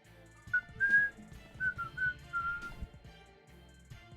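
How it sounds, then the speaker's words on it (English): A person whistles a high-pitched tune in several short and held notes, soft and close, with faint low background rumble between them. "So like I'm whistling right now."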